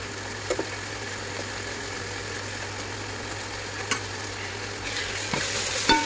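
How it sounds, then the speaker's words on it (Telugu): Ginger garlic paste with turmeric frying in a pan for a chicken curry, giving a soft, steady sizzle with a few light clicks of stirring, fairly quiet and continuous with no talking. "ఈ అల్లం వెల్లుల్లి పేస్ట్ పచ్చి వాసన పోయేంత వరకు ఇలా ఫ్రై చేసుకోవాలి."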